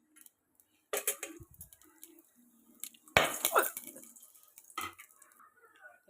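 Whole biryani spices (cloves, cinnamon, cardamom, mace, nutmeg, shahjeera and bay leaf) drop into hot oil in a pan for vegetable biryani. Quiet scattered clinks and taps come with a brief crackling sizzle burst partway through.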